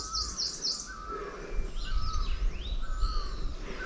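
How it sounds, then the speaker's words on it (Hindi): Several birds chirp and whistle outdoors on a mountain trek to Dev Kamrunag temple, in short, scattered calls over a low background rumble. "चिड़ियों की आवाज़ें आ रही है"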